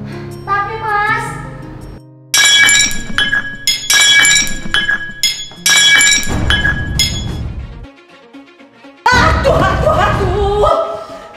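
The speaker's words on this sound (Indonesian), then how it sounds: "kamu masih pecah piring ya?" Ceramic plates smash on a hard floor in a series of loud, sharp shattering crashes, each followed by ringing shards, with brief quieter gaps between breaks.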